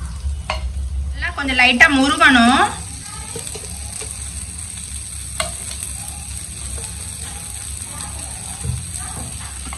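Jalar murtabak frying in a pan with ghee: a brief loud sizzling burst as it is flipped, then a quieter low crackle of frying continues while a voice speaks briefly.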